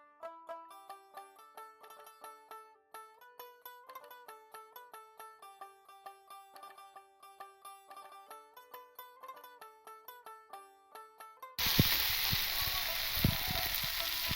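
Papaya, soybean and potato masala fried in oil, heard as a loud, steady close sizzle with crackling that bursts in abruptly after a stretch of plinking melodic music.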